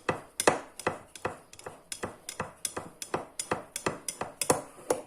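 Corn bread dough made with T45 flour being stirred while a spoon scrapes the bowl walls, giving a quick, steady run of sharp, clicky scrapes and taps, fairly close and without talk.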